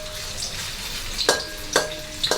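Tofu frying in hot oil, giving a steady crackling sizzle with a few sharper pops and spatters near the end, close and fairly quiet, no voices.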